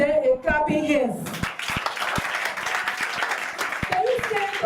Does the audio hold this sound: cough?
no